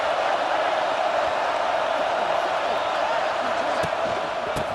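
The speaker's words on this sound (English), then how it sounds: "This crowd trying to show them what it's going to be like all day in this house." Stadium crowd in the College Football 26 video game, a steady dense roar of many voices that holds at an even level for the whole stretch, with faint cheers rising inside it.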